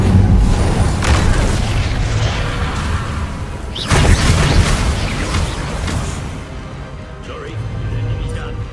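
Fire spells explode in Hogwarts Legacy gameplay as deep booming blasts, a heavy burst at the start and another near four seconds, amid continuous rumbling combat noise with voices calling out.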